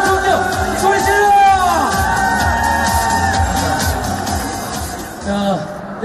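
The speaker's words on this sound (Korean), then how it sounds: "박수 부탁드리겠습니다" Audience applause and cheering at an AOA Seolhyun fan signing event for the Albatross 5 dashcam launch: a loud crowd of whoops, shouts and clapping that carries steadily throughout with excited voices mixed in.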